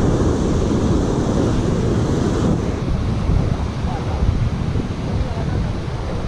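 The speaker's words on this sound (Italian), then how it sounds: "c'è un vento fortissimo" Strong wind buffets the microphone on a beach during surfcasting, a loud steady roar with surf mixed in, carrying on without a break.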